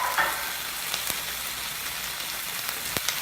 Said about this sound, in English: while our polenta is searing our scallops